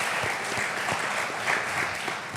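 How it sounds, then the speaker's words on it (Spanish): An audience at a pastor's talk applauds in a steady, moderately quiet wash of clapping from many hands across the whole moment, with no talk over it. "yo creo que están aplaudiendo porque ya terminamos"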